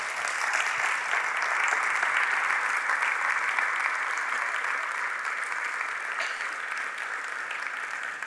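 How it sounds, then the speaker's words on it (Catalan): Steady, even applause from a seated audience at a film presentation, many hands clapping at a constant moderate level with no break for the whole stretch. "Un aplaudiment per tots ells, si podeu pujar."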